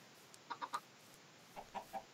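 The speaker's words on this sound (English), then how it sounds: "Mojang chickens." Minecraft chickens give two short bursts of three clucks each, separated by a brief pause, with nothing else sounding around them.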